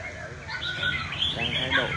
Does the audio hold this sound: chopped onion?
no